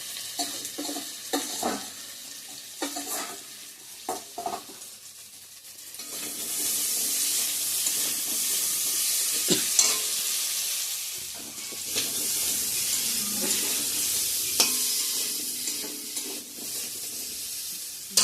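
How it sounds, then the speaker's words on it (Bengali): Paneer fries in a pan, starting with scattered stirring clatter, then settling into a loud, steady hissing sizzle with occasional spoon scrapes, close and without talk. "এভাবেই রান্না করতেছি পনিরটা"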